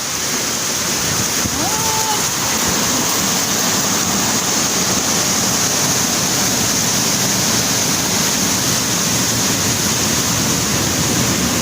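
Steady, loud rush of a waterfall in Eastern Samar, Philippines fills the whole clip, a dense broadband roar with no pauses, close by.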